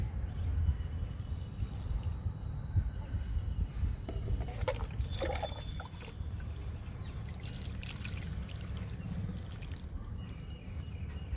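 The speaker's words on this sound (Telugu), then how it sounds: "మనం నిండుగా మట్టి పోసాం కాబట్టి స్లోగా ఇవ్వాలండి వాటర్ని" Water poured slowly onto a curry leaf plant freshly repotted in a pot filled to the brim with soil, a continuous close trickle and splash soaking in with some brief drips near the middle.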